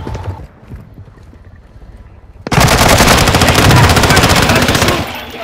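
Gunfire in the video game Call of Duty, starting after quieter background ambience and erupting into a loud, sustained rapid machine-gun burst that lasts about three seconds before tapering off.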